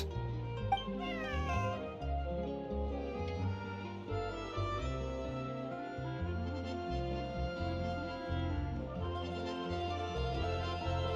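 A cat meows and caterwauls in a drawn-out, wavering wail, heard over a steady background of music-like tones, with no talking.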